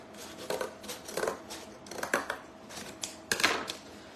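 Scissors snipping through bag fabric at a craft table, a series of crisp cutting bursts in an uneven rhythm, close and fairly loud with no talking.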